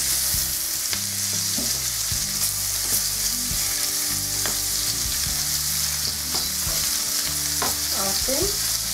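Sliced onion hitting hot oil and frying with a steady, loud sizzle, with stirring scrapes and clanks of a utensil against the pan throughout, no voices.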